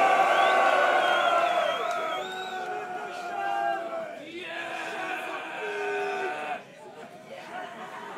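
A crowd at a metal concert in La Dynamo, Toulouse, cheers and whoops, a dense, sustained roar of shouts and whistles that swells and dips, with chatter and some laughter mixed in.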